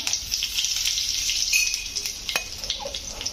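Mustard seeds and cumin frying in hot oil, giving a steady loud sizzle with scattered pops and crackles throughout, close up and alone with no talk.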